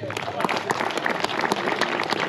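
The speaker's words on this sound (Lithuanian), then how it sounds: "Aplodismentai." Audience applause at the awards ceremony of the 2025 Kupiškis Mini Rally: dense, steady clapping from a crowd, close and loud, lasting throughout without a break.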